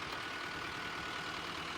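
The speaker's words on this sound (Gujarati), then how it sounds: "જો આ બાજુ લોડર હાલે છે." Steady low rumble of a loader engine running while loading soil onto a tractor on a farm, heard at a moderate distance with no talk over it.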